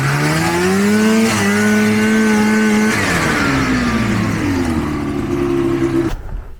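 A snowmobile engine revs hard in deep snow while climbing the side of a hill, its pitch rising and falling in sustained, close, loud whines before cutting off abruptly near the end.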